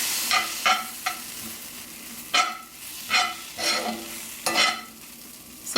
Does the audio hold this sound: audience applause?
no